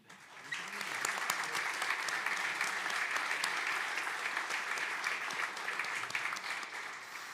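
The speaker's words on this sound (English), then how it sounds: "Can I get a big round of applause for Raluca Stefanuc, Jan Ellisberger, Floria" Steady applause from a large audience at a cybersecurity standardisation conference, sustained clapping that swells quickly and holds at an even level throughout with no voices standing out.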